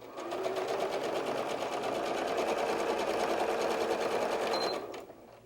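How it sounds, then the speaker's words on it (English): A sewing machine runs steadily for nearly five seconds, stitching fabric pieces of a fox softie, with a dense, even whirr of rapid needle strokes that stops abruptly near the end. "we are going to sew the non-notched side"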